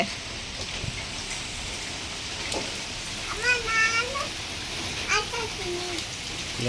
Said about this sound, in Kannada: ಮಳೆ ಬರ್ತಿದೆಯಲ್ಲ